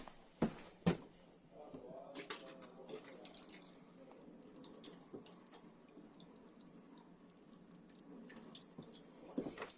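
Water runs from a tap once trapped air has been bled from the system, a faint steady flow opening with a few sputtering bursts and louder splashes before settling into a quiet stream.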